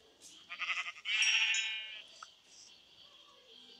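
A sheep in a video game bleats in a wavering, nasal call made of several quick pulses followed by one longer, sustained bleat. It is loud and close, then fades into near silence.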